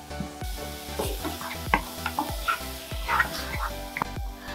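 Smoked bacon and finely chopped shallots cook gently in a pan, a soft steady sizzle broken by repeated rhythmic scrapes and knocks of a utensil stirring, close and moderately quiet.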